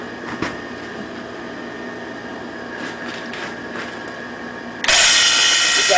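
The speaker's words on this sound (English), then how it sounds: "Next is to drill it" A power drill drilling into an AC induction motor whirs up loudly near the end after a low steady hum, running continuously at close range.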